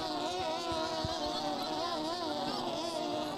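Modified racing boats at an NBRA/USTS race in Jacksonville, Illinois, run as a steady engine drone out on the water, a continuous mid-distance roar with faint wavering tones and no talk.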